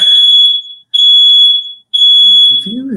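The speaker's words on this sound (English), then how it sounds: "my smoke alarm is going off right now." An indoor smoke alarm sounds three long, loud, piercing beeps with brief silent gaps between them, and a voice starts faintly at the very end.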